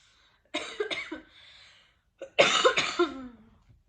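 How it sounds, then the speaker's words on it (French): Two bursts of harsh coughing from a woman with a four-week-old cough, close to the microphone, the second louder and longer, separated by a quiet breath. "je fais que de tousser, donc désolée"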